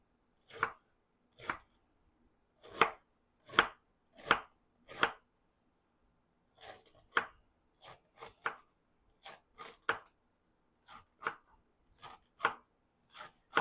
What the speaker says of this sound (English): I just chop as much of this as I can down to the end.